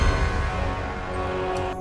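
Orchestral prelude from the Polar Express score, a sustained full-ensemble texture with rich low strings and layered harmonics, steady and moderately loud throughout, no voices.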